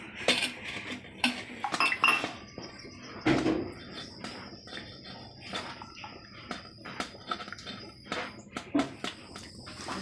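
Tamarind water is strained through a large rice strainer into a steel pot, with close clattering of metal utensils, clinks and knocks against the vessel, and a steady wet background.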